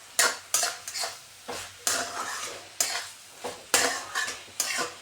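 Large prawns are stirred into a Bengali banana-stem curry in a pan, with about a dozen evenly spaced scraping strokes of a spoon against metal over a soft sizzle, close by and without talk.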